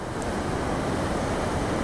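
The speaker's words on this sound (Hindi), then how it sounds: "यहाँ भी देखो कितना तेज बहाव है सामने पानी का।" A fast-flowing mountain stream on the ride from Sissu toward Gonbo Rongjan churns in a steady, full-bodied rush. It is close and fairly loud, with no talking over it.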